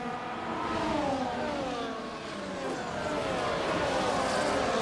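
Ferrari race car in a racing video game drives at steady speed, its engine droning with rising and falling harmonic sweeps as it shifts, continuous and fairly close throughout with faint commentary underneath.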